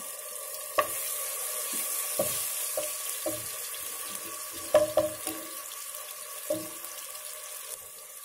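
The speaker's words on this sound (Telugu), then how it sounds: "ఈ పేస్ట్ వేగుతుంది కదా" Two spoons of ginger garlic paste fry in hot oil, an even sizzle with intermittent spoon knocks and stirring scrapes against the pan, one cluster of louder clatter midway, no speech.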